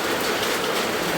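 Rain with wind falls as a dense, steady wash of noise, close and continuous, with no voices.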